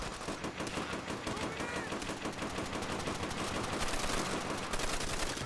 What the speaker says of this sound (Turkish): Biri bana e, Kar 98 mi sıkıyor?